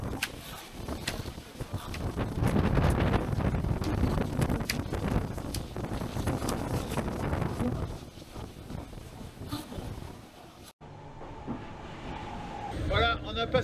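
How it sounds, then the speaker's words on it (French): Strong wind at sea, about 15-18 knots, roars and buffets the microphone aboard a sailing boat, gusting steadily with rushing noise, then cuts abruptly to a quieter passage near the end. "Bon là il y a 15-18 nœuds de vent"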